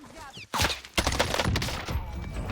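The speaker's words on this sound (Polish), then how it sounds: "snajper jeszcze do mnie strzela jakiś" Sniper and other gunfire in a Call of Duty match: loud, close sharp shots followed by sustained rattling fire, with a voice talking briefly at the start.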